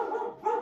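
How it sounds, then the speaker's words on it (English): A house dog barks at someone arriving at the front door, two quick close barks in a short burst with nothing else around them. "my dog is going to bark like crazy"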